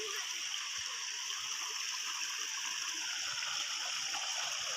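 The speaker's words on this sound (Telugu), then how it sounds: "ఆ వానలు పడినప్పుడు ఈ కొండలోంచి నీళ్ళు అయితే పారుతున్నాయి ఇట్లా" After heavy rain, water runs down a hillside near a village in a steady broadband rush, constant and fairly loud with no pauses.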